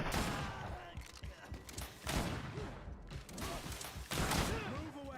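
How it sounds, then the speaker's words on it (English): Blunderbuss blasts fired in the video game Greedfall, three heavy booming shots spaced about two seconds apart, each with a long rumbling tail, set against constant game music and background noise. "And we have a really strong blunderbuss."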